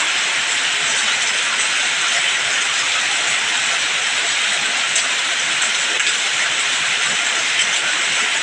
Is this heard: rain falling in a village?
yes